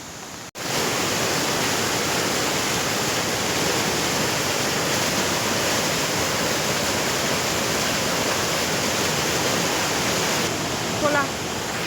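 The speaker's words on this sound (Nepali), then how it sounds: "फेरि अर्को खोला आइपुग्यो।" A mountain stream rushes steadily and loudly throughout, a dense continuous roar of flowing water close by, with a brief drop at the very start and no talk.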